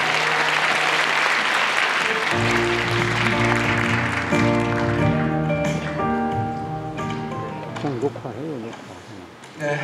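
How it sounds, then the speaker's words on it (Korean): An audience at a unification rally opening ceremony in Cheonan applauds to welcome the city council chairman, loud sustained clapping with a voice and tonal music over it before the clapping fades. "여러분 정도희 의장님 나오실 때 큰 박수로, 따뜻한 박수로 환영해 주시면 감사하겠습니다."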